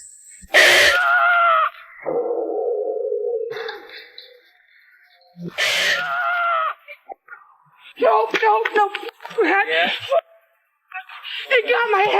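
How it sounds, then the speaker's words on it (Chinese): A man crying out and shouting loudly in pain after being struck during a punch-endurance challenge, sharp anguished yells alternating with groaning sobs, close and loud, with pauses between bursts. "这回把他打得也哭了，不停大声叫喊来掩盖身上的疼痛"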